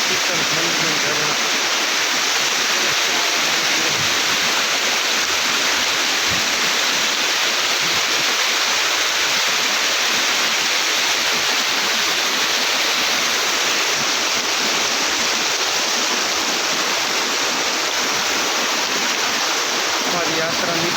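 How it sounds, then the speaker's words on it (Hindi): Steady loud rush of a waterfall in freezing cold on a high Himalayan trek near Satopanth, a dense broadband roar filling the whole stretch without a break. "और ये शीतल ठंड में झरना।"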